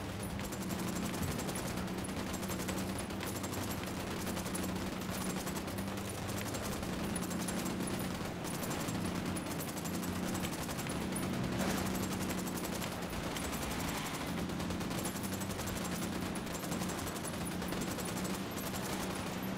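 Rapid, sustained automatic gunfire from the Ghost Recon Wildlands shooter game on Xbox One rattles on without pause, faint and distant-sounding throughout with no voices over it.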